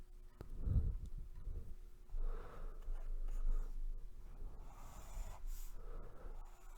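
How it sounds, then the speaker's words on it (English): A pen scratches and glides across paper while a normal distribution curve is sketched, producing soft, continuous strokes with brief breaks, close and quiet, with no talking. "Again, we'll start by drawing the picture."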